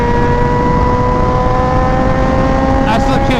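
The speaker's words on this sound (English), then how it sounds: "I still can't get over this exhaust. It's so loud." Honda Fireblade RRR SP motorcycle with a loud aftermarket-style exhaust holding a steady, droning engine note near the microphone, with a brief rise toward the end.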